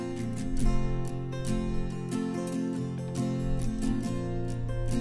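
Wide-panned rhythm guitars strum steadily high in a folk song mix, with full harmonic chords and a low bass layer underneath, continuous and moderately loud throughout.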